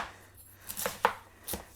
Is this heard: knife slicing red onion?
yes